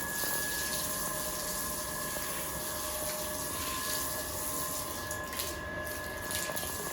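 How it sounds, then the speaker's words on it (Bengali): Water runs steadily while plants are watered at home, a constant gushing, hissing flow with a faint pump-like hum throughout, no voices. "আচ্ছা, তোমার গাছে জল দিচ্ছ?"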